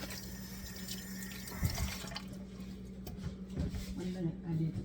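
Stock poured from a container over a layered turkey lasagna topped with cheese, a steady liquid stream splashing near and clear beneath a constant low hum, with brief speech mixed in.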